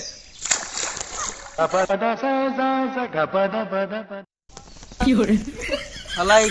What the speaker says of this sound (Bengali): এই মারলাম ডুব